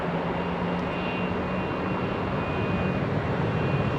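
Steady broadband roar of a jet airliner departing runway 27R at London Heathrow, heard up close as a dense, unbroken rushing rumble with a faint high whine, no talk over it.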